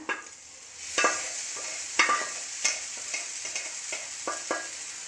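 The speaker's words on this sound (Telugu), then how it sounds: "ఈ నూడిల్స్ని ఇందులో వేసుకొని కలుపుకుందాం బాగా." Boiled egg noodles are stirred and tossed in a hot pan, with a soft sizzle and repeated scraping strokes at a moderate pace, near and clear.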